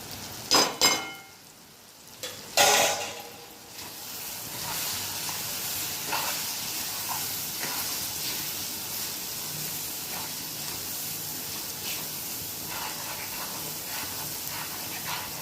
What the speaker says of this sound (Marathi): हलवत राहायचं छान असं, याचं तेल सुटेपर्यंत